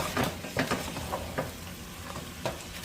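Crab fry masala being stirred in a pan: repeated scraping strokes of a spatula against the pan over a steady low sizzle, fairly close, with no talking.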